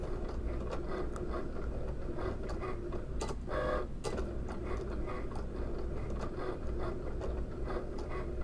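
A Cricut machine cuts printable vinyl with a steady mechanical whir and light ticking of the carriage, close and continuous, punctuated by a couple of brief louder clicks partway through.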